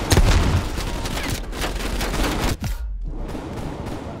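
Enemies fire in the Call of Duty: Cold War video game, a dense burst of rapid automatic gunfire with heavy booming shots, loud and close, dropping away briefly before more fire.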